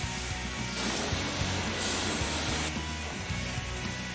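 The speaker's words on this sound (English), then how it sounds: "Turn on the Vac and excavation can begin immediately." Steady loud roar of a vacuum excavator blasting air and sucking up debris through a flexible digging pipe, a broad continuous hiss with rumbling low end and slight surges throughout.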